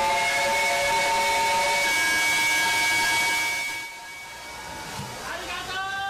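The whistle of a 102-year-old steam locomotive, the JR Kyushu SL Hitoyoshi running between Kumamoto and Hitoyoshi, sounds long and shrill over hissing steam, then fades as the engine rumbles on.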